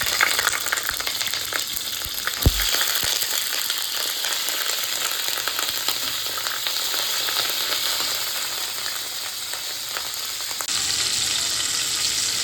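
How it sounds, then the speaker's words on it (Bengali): Cauliflower pieces frying in hot oil, a steady dense sizzle running throughout with a brief clink near the start and no talk. "এবার ওই তেলেই আমি ফুলকপিটা ভেজে নেব।"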